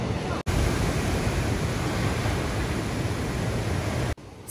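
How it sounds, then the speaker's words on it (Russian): Stormy ocean surf at Puerto de la Cruz, Tenerife, roars as a continuous, loud wash of breaking waves with no talk, cut briefly by two short dropouts. "Океан бушует сегодня."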